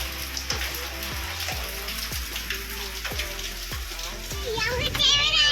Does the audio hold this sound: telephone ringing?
no